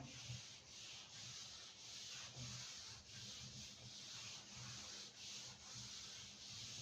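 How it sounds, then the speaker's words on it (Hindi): Chalk being rubbed off a classroom board with steady back-and-forth strokes, a continuous close scratchy rasp pulsing in a regular rhythm with no talk over it. "देखो, इसको रब कर देता हूं मैं।"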